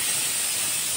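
A pressure cooker boiling potatoes lets out a continuous loud hiss of escaping steam, steady and close throughout.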